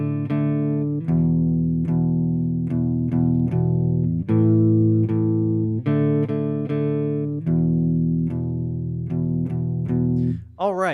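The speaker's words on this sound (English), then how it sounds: "I'm playing what we call power chords" Clean electric guitar power chords with no distortion ring out alone in a steady strummed rhythm, each chord sustaining before the next. The run closes on a wavering, bent note.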